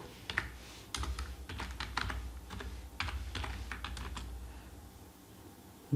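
Typing on a computer keyboard while entering HTML code, a run of quick clustered key clicks in bursts with short pauses, close and clear, no voices.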